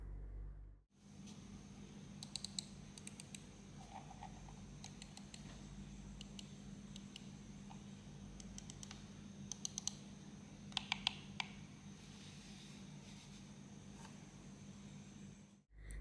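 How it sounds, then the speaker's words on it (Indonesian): Sharp, quiet clicks from a dbE acoustics MG200 gaming mouse in small bursts and single taps, close up over a low steady hum, irregular in timing across the clip. "gimana suara klik dan tombol-tombol mouse ini"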